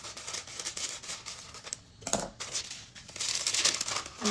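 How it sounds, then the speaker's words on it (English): Parchment paper being cut to size for an 8x8 brownie pan in a home kitchen gives close, dry crinkling and rustling, steady for about two seconds, a short lull, then a brighter, busier burst of crisp paper noise. "I'm cutting some parchment to size."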